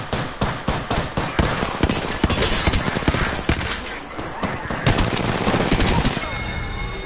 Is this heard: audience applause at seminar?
no